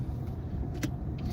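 A car rolls slowly through a busy parking lot, its steady low engine and road rumble continuous and close, with a brief brighter swish midway.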